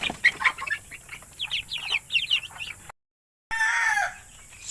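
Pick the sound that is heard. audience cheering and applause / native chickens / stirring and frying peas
native chickens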